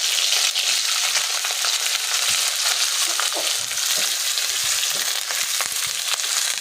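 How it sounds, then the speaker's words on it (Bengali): Thinly sliced potatoes frying in oil in a pan, a loud, crackling sizzle with stirring scrapes and spatters throughout, close and continuous with no one talking. "কিছুক্ষণ ভেজে নেওয়ার পর এর মধ্যে একে একে দুটো মাঝারি সাইজের আলু পাতলা করে কেটে নেওয়া সেটি দিতে হবে।"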